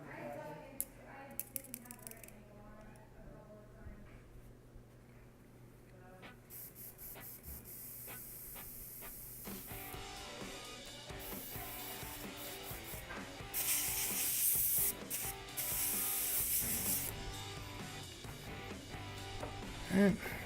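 An airbrush sprays varnish in bursts of airy hiss, with clicks and small mechanical rattles between them, as the model painter flushes the brush while working on a Deathwing Librarian miniature; the louder sprays come in the second half.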